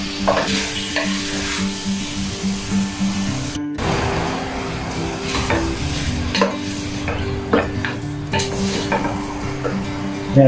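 Beef liver stirred and sautéed in a pot for Ilokano papaitan, a steady sizzle of frying under repeated scraping and clinking of a spoon against the pot, close and continuous with a short break partway through.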